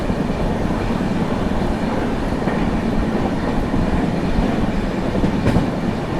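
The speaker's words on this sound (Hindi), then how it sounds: "अब आ रही है दोस्तों न्यू दिल्ली दरभंगा क्लोन" The New Delhi–Darbhanga clone express rushes past a railway crossing, a loud, steady roar of wheels and carriages with rhythmic rattling and a brief squeal, close by throughout.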